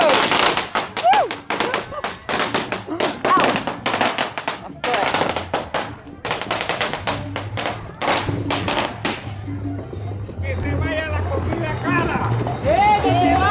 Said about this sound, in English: He said, "Watch out! It's got fireworks in it."